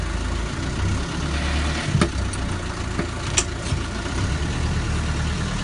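A Land Rover Lightweight engine runs steadily as it pulls away in first gear, a loud, close, low rumbling drone with a few faint clicks and knocks, and no voices.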